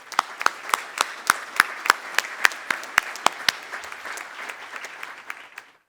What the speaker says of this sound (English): I'd like to give them one more hand of applause